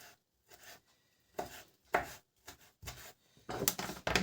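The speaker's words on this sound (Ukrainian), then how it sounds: "Помідорчики так нарізаємо на дрібненькі кубочки." Knife chopping tomatoes into small cubes on a cutting board, a series of sharp, uneven cuts in bursts with short pauses between them, close and fairly loud with no talking.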